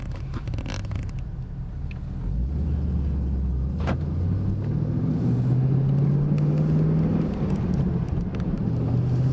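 A manual Chevrolet Camaro Gen5 fitted with long tube headers and a muffler delete, its engine droning steadily nearby with a low rising pitch as it revs up, with no talk over it.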